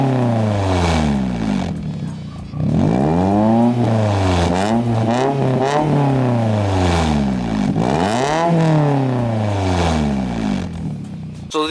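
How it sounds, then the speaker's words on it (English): A car engine fitted with a Tsudo race header revs repeatedly, loud and raspy, with rising and falling pitch sweeps across several throttle blips, close and without talk. "give you guys a couple revs"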